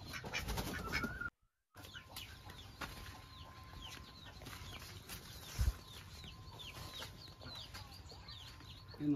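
Chickens cluck and chirp softly around a rural poultry farm where ducks are also kept, a busy continuous flock chatter with one brief dropout and no speech.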